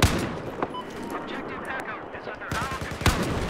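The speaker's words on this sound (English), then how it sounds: "Oh, shit, I'm getting shot at." Gunfire from Battlefield 4 gameplay bursts out in sharp cracks and short automatic volleys, a hard shot opening, another late, with a player's excited voice talking over the fighting.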